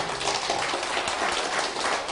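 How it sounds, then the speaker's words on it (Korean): A seated crowd at a Korean gathering applauds someone who stands up to be recognised, a dense, steady wash of clapping without pauses over the whole short stretch. "박수 한번 쳐주세요."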